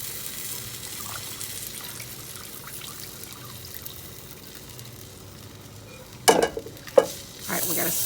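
Rice and broth stirred gently in a jambalaya pot, a soft low simmering swish, then a few louder scrapes and clinks of the spoon against the pot near the end.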